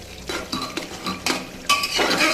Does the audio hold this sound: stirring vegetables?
yes